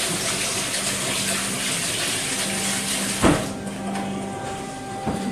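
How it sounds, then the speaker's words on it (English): Hands being washed under a running tap while making truffles, a steady broadband rush of water flowing close by with a brief splashy burst partway through, no talking. "Now I'm going to wash my hands."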